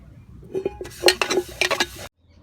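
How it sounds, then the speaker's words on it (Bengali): Steel mug scrubbed with a mesh scrubber at a pond, giving close, uneven bursts of scraping and metallic clinks that build and then stop abruptly. "এইভাবে একটু চুপিয়ে মগটা মেজে নেব"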